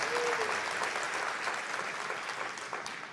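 A church congregation applauding, sustained clapping from many hands at an even level that slowly tapers, with a brief tone rising early on and no clear speech.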